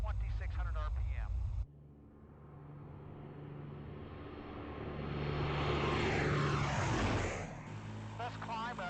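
A propeller airplane engine drones loudly as the plane climbs out after power is reduced to 46 inches and 2,600 RPM, rising in pitch and intensity, with brief talk over the radio at the start and end.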